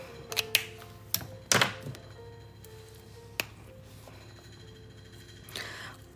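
A loose, rickety-sounding fan runs during a coloring session, giving a steady low hum with a faint tonal whine underneath. Scattered sharp clicks and taps sit on top of the drone.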